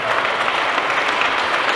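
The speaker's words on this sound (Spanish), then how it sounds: "yo pido un fuerte aplauso para nuestro secretario" An audience at a cultural grant-giving ceremony applauds an invited finance secretary, a dense, steady wash of clapping from many hands throughout, with no clear voices above it.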